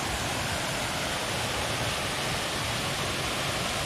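Meigs Creek Cascade waterfall, a constant broad rushing roar of falling water, steady and fairly close, with no voices.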